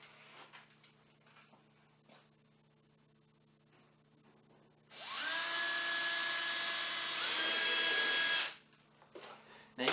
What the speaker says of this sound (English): Now I'll put a couple of screws on either side through the plenum into the furnace lip,